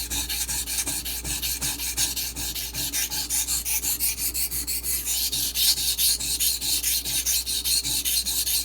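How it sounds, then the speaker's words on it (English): A knife blade scrubbed back and forth on a Pride Abrasive water stone while convexing the edge, giving a steady, continuous wet rasping in rapid even strokes, close and loud with no talk. "I'm primarily just going to focus on the scrubbing, the back and forth scrubbing motion"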